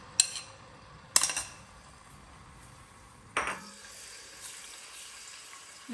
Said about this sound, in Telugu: దీంతో ఇప్పుడు నేను ఈ ఆయిల్లో ఈ అల్లం వెల్లుల్లిపాయ పేస్ట్ వేసేసి పచ్చితనం పోయేంత వరకు వేయించుకుంటాను.